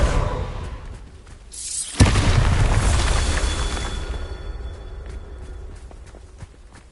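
A Bombarda spell explodes in Hogwarts Legacy with a sharp, loud blast, then a long roaring rumble of debris that slowly fades over several seconds.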